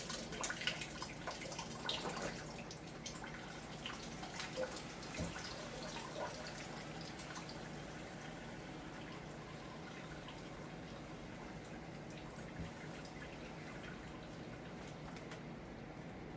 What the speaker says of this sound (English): just push the liquid on through until it stops dripping, or just it starts making at least a small drip, not a full stream